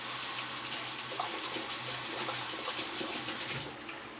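Tap water runs steadily into a sink to warm a Dorco Pace 6 cartridge razor, a close, continuous hiss that tails off slightly at the very end.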